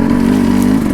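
Enduro dirt bike engine holding a steady, loud drone at constant throttle while climbing a steep snowy slope, close and continuous with no voices.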